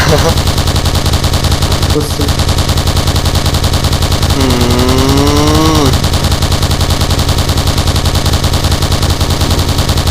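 L86 LSW light machine gun firing in the Point Blank shooter game, a dense, loud stream of rapid automatic shots running the whole clip with game sound effects layered over it.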